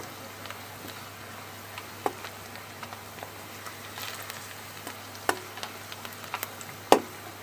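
Onions frying gently in a pan for bisi bele bath, a quiet steady sizzle with a few sharp pops and crackles scattered through, no talking.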